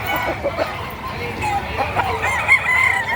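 A rooster crows loudly nearby at a livestock market, with other chickens clucking and a busy background murmur around it.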